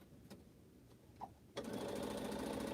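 A home sewing machine used for quilting starts up after a few quiet clicks and runs in a fast, steady close-up whir.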